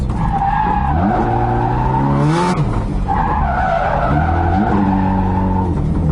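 A Nissan 240SX drift car makes a straight-line pull. The engine drones loud and close with rising, wavering revs, dips through a gear change midway, then climbs again, with tyre noise mixed in.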